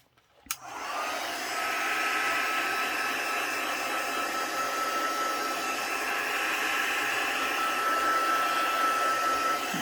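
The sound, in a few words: heat gun blowing on a craft board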